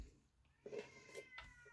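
A cat named Sparky meows a few short times at close range, in a quiet room with faint background noise.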